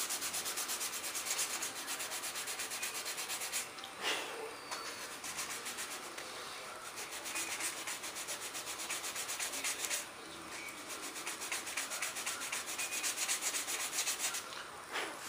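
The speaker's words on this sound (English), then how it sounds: "now I'm gonna get my piece of sandpaper. I'm gonna bevel this down the way I want it." Steady sandpaper rubbing as a bevel is shaped on a small part for a scale F-18 model wing hinge hump, a continuous close scratchy rasp with brief pauses and no talking.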